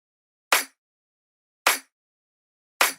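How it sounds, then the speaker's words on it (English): Three sharp, bright snare-clap hits from a moombahton drop, a combined snare and clap sample with lows cut, each a short noisy burst with no low end, spaced about a second apart over silence. "It's actually a bit of a combination between a snare and a clap"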